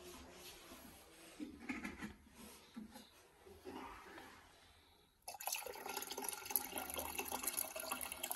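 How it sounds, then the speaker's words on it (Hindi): Water pours into a cooking pot for moth dal in a home kitchen, a steady close rushing splash that begins abruptly after several seconds of quieter rubbing and clinking sounds. "थोड़ा पानी घट लग रहा, मतलब पानी हम पावे"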